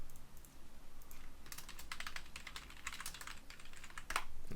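Keys clatter on a computer keyboard while code is written, quick uneven bursts of typing that grow louder toward the end.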